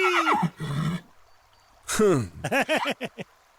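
Mare neighing close by, a few loud whinnies with a falling tremolo, separated by short gaps, with some faint background noise and no speech.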